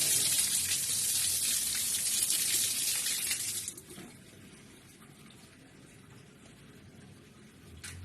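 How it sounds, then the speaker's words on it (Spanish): Loud, steady rush of water gushing under pressure from a pipe into a clay water filter for several seconds, then abruptly dropping to a quieter trickling flow. "¿Ven la presión que tiene el agua?"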